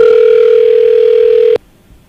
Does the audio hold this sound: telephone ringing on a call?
yes